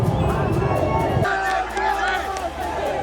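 RCB fans celebrate on MG Road after their team's championship win, a loud crowd roar with shouting and overlapping voices that continues throughout.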